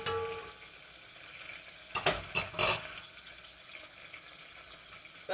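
Sauce stirred in a pot on a stove while making chicken cordon bleu, a soft scraping swirl with a few louder clinks of a utensil against the pot midway, quiet kitchen background.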